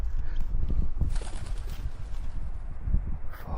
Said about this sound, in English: Fucking pigeon.